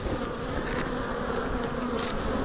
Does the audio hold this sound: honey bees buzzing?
yes